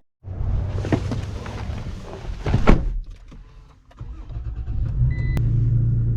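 A lifted Toyota Tacoma TRD Pro pickup on 285/70 tires pulls away, with a steady low engine rumble building after a few thumps and clunks, close and loud with no talk.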